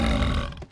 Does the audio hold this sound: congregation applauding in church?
no